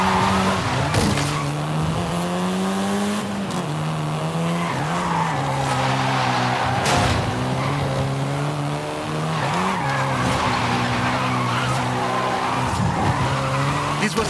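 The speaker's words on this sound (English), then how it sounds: "This version is the Volkswagen Golf R" A 7th-generation Volkswagen Golf R in Forza Horizon 5 revs its engine hard with rising and falling gear pulls, tires squealing and skidding through corners, loud and close, while someone talks over it.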